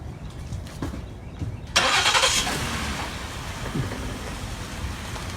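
Sheriff's patrol car starting and pulling out, its engine catching with a sudden loud rush, then settling into a steady idle rumble under a hiss like rain.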